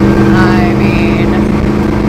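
A 1966 Jeep Super Wagoneer restomod with a 485-hp SRT-8 Hemi V8 rumbles loudly and steadily up close, its deep engine drone holding throughout.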